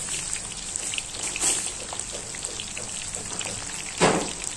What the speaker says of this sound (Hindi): ये देखिए हमारे कॉर्न अच्छे से फ्राई हो रहे हैं।